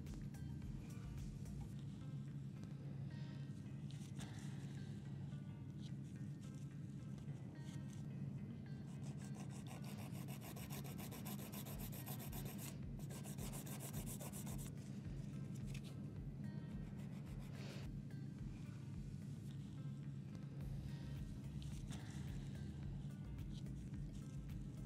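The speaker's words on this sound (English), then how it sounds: "with file I will correct the shape of my nail" A fingernail is shaped with a nail file in close, repeated rasping strokes that run continuously for the whole stretch, quiet but clear, with no voices.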